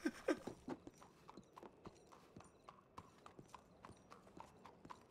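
Horse hooves clip-clop at a steady walking pace in a Western video game, moderately close, with a brief snort or whinny at the start and no talk over the rhythm.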